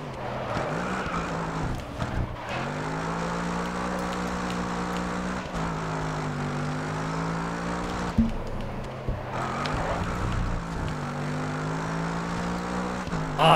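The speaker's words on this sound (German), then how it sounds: "schöner AMG. Er hat auch einen schönen Sound" Mercedes AMG race car engine in the racing game Grid Autosport, a loud sustained droning rev that rises and falls through gear shifts, with brief dips as the car brakes and accelerates again.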